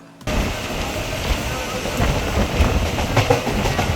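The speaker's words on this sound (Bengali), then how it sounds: "শিয়ালদা থেকে লোকাল ট্রেনে চেপে এক ঘন্টা কুড়ি মিনিট পর" A local train out of Sealdah rumbles along the rails with a steady clickety-clack, starting abruptly and staying loud and close for several seconds.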